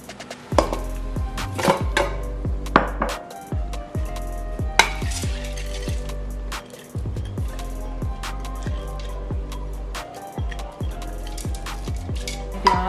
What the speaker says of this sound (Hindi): प्याज भी मोटी मोटी चॉप करके डालूंगी